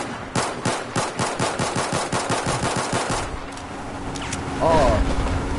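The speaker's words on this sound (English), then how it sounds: "Fire some warning shots so they don't come." Warning shots fired as rapid, evenly spaced automatic bursts, loud and close for about three seconds, then a pause and a few louder blasts, with people talking over the shooting.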